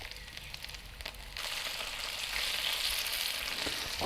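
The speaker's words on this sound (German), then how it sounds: "Wie man sieht, das Öl ist heiß, dann kommt das Restliche nach." Chicken pieces frying in very hot oil in a pan for a pasta dish, a steady dense sizzle that swells louder partway through as more pieces go in, no talking.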